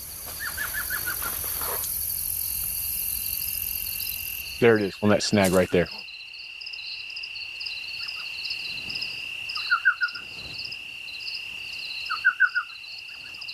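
A tiny owl, the world's smallest, calls from a nest cavity in a dead ponderosa pine, giving short, faint repeated notes spaced several seconds apart over a steady insect drone, with a person talking nearby.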